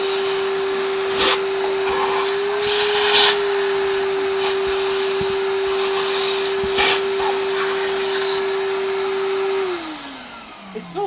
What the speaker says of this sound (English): Do you need to vacuum any of that out in there?